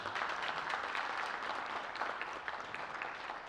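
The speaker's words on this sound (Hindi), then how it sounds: "मैं चाहता हूँ इनके लिए आप लोगों का जोरदार ताली बजाएं।" At a national theatre festival, a crowd claps loudly and steadily for the organizers, a thick continuous applause throughout.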